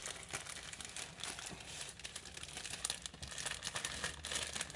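Crinkling of plastic pasta packaging being handled while portioning dried pasta, a steady close rustle with sharper crackles throughout.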